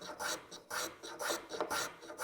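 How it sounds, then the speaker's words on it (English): Rhythmic rasping strokes of a hand tool chamfering the bottom edges of wooden workbench legs, about five close, even back-and-forth passes. "don't forget to chamfer the bottom ends of the legs too"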